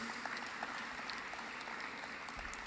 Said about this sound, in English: Please, a round of applause to our organizers.